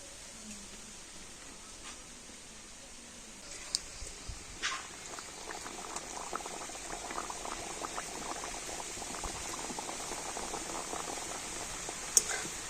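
A coconut snack deep-fries in hot white oil, producing a continuous low bubbling hiss that grows busier after a few seconds, with scattered crackles and one sharp pop near the end.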